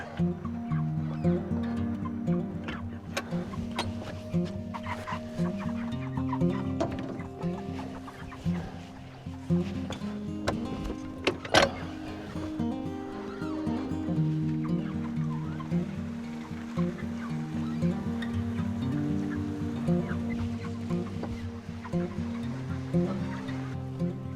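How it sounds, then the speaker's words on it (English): Many chickens on a small farm cluck and squawk steadily and close by in a busy, continuous chorus as they are being moved, with occasional louder calls and rustling. "Let's get these chickens moved."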